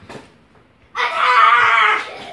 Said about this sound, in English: Quit screaming.